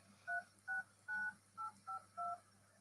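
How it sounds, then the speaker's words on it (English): A cell phone keypad plays six separate DTMF dialing tones in an uneven rhythm, each a short clean dual-pitched beep, clear and close against a faint background hum. "it still plays the different tones on your cell phone"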